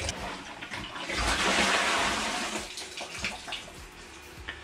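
Pump pushes clean water through a wort chiller in a brewing setup, giving a steady, close rush of flowing water with gurgling splashes throughout.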